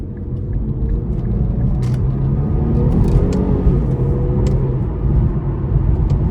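A 2015 Infiniti Q50 Sport with a 3.7 V6 and almost 83,000 miles accelerates hard from inside the cabin, its engine note rising in pitch as revs climb under a steady loud road rumble, with no talking.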